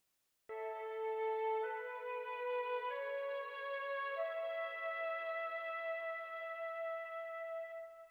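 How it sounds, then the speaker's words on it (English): A sustained melodic line from violin doubled by flute, the two blending into one rounded tone, moving through a few held notes that step between pitches, steady and fairly soft with nothing else present. "So by adding the flute to the violin melody,"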